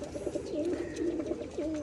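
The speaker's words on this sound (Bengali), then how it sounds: "দেখুন কত সুন্দর পায়রাটা, সিমি কালারের রাজশাহী আছে, দেখুন ডিম নিয়ে বসে আছে" Rajshahi pigeons, including one sitting on eggs, give soft, low, rolling coos one after another in a steady murmur. The calls are close and continuous, with no talk over them.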